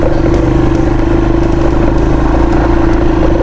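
An Aveta Ranger Max motorcycle engine runs steadily close by while off-roading in a forest, a loud continuous rumbling drone with a clattery edge and no break.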